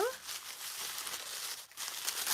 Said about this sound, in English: Cut open this tissue.